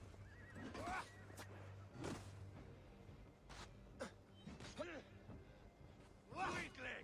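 Horses whinny repeatedly during a battle in Assassin's Creed Valhalla, with several fairly quiet neighs spread across the moment alongside dull hoof thuds and scattered background commotion.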